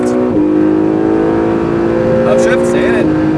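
An Acura NSX hybrid sports car at full throttle on a race track, its engine note loud and climbing in pitch, with short gear-change dips and a voice speaking over the roar.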